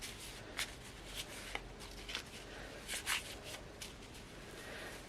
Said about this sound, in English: I'll give them another quick shuffle.